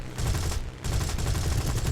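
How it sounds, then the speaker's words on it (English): A British Beaufighter's aircraft cannons fire in War Thunder: loud, rapid bursts that run almost continuously, with one short pause before the firing resumes. "And my cannons are probably almost out at this point."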